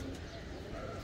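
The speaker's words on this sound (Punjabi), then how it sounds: "ਫਿਰਦੇ ਮੇਰੇ ਕਬੂਤਰ ਉਹ" Pigeons kept by a fancier, among them golden birds, coo softly in a low, continuous murmur close by, briefly and without anyone speaking over them.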